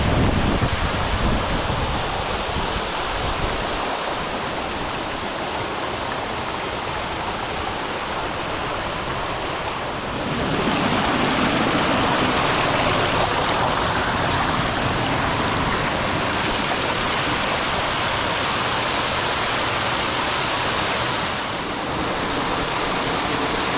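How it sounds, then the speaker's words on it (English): A waterfall deep in a gorge in the Ribble Valley, Lancashire, roars as a steady, loud, broadband rush of falling water, close by and continuous throughout, with no voices. "We're now deep in the gorge and we're at the waterfall."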